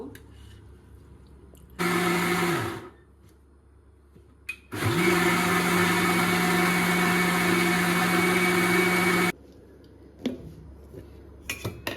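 A blender grinds rice to a paste, whirring loudly in two bursts, a short one then a longer steady run, with quiet pauses and light clinks between.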